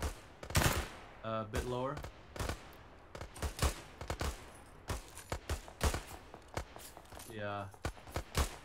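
Rapid bursts of gunfire from the ArmA 3 combat game in a desert setting, sharp cracks and volleys scattered throughout, with players talking over and between the shots.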